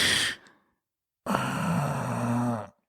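A voice imitates heavy, drunken breathing: a sharp exhale, a pause, then a long, groaning, ragged breath out close to the mic.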